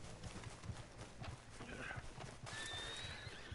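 Horse hooves in the video game Red Dead Redemption 2 Online, quiet rhythmic clip-clop of a trotting horse with a faint whinny, distant and low in level.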